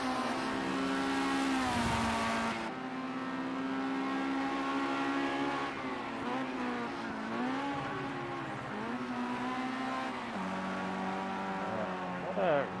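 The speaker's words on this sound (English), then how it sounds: "What a rev limiter being hit." A single-seater open-wheel race car at full throttle in Project CARS at Donington Park GP, its engine holding a steady high whine with stuttering dips as it hits the rev limiter. Another engine drones faintly far away, and someone talks over it.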